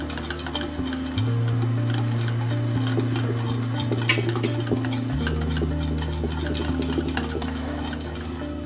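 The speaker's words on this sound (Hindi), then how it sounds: "आइए दही को विस्क कर लेते हैं।" A whisk beats curd in a bowl for raita, giving rapid, continuous ticking and scraping strokes over a steady low hum that shifts pitch partway through.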